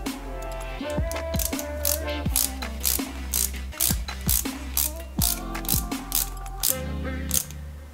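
Small screws being driven into the plastic body of a 1:8 scale Porsche 917KH model kit with a hand screwdriver, giving repeated close ratcheting clicks and short turning bursts in a steady rhythm, with no talking.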